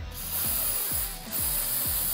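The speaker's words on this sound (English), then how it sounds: "Setting spray." Setting spray from a pump bottle is sprayed in four or five quick, rhythmic hissing bursts, close and fairly quiet.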